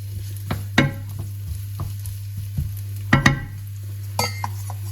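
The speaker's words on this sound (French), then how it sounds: "je vais mettre l'oignon. Je fais revenir légèrement." Chopped onion goes into hot oil in a pan and is sautéed lightly, giving a soft continuous sizzle under a steady hum, broken by several sharp clinks and scrapes of a utensil stirring against the pan.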